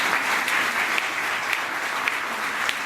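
Steady applause from a large audience fills an auditorium at a Hindi Diwas event, a dense wash of clapping that holds continuously at even loudness throughout, with no voices over it.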